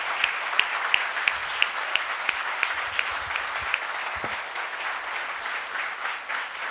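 An indoor audience at a session gathering claps steadily, a dense sustained round of applause with scattered sharp individual claps, fairly near and continuous throughout.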